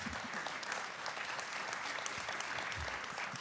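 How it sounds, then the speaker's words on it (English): Audience applause after a dancer and choreographer is honoured for fifteen years with a company, a steady, fairly soft wash of clapping from a crowd, continuous throughout and heard alone. "you can applaud that"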